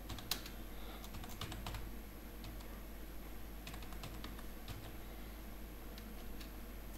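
Steady clatter of typing on a computer keyboard while coding a web page, quick irregular keystrokes close to the microphone over a constant low hum, with no talking.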